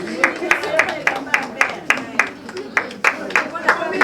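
Audience clapping at an evening awards gala, sharp, fairly close claps in a quick steady rhythm from a modest crowd, with faint voices underneath.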